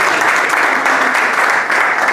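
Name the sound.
audience applause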